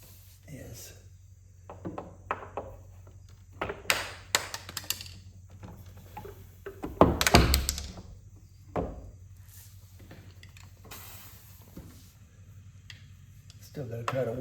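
A well-hung wooden door at a lakeside house is worked back and forth. It gives scattered thunks and knocks, one heavier bang near the middle, with someone talking between the sounds.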